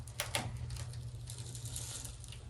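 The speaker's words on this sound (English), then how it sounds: "go around and undo this window trim screw" A ratchet works loose a window trim screw during interior stripping of a Chevrolet Impala, a quick series of faint metallic clicks close by in a quiet garage.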